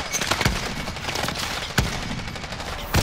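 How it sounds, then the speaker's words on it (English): Grenade blast in the video game Call of Duty: Modern Warfare, a sharp broadband burst among scattered gunfire-like cracks, with a few loud impacts spread over a few seconds. "Grenade out!"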